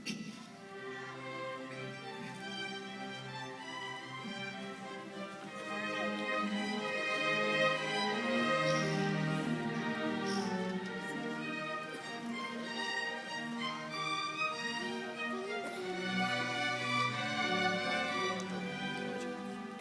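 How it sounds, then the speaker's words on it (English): Orchestral strings play Peter's flowing, lilting theme from Peter and the Wolf at a quiet, moderate level, performed by the Fayetteville Symphony, with no talking. "So those are the strings of the orchestra, and they make Peter sound like this."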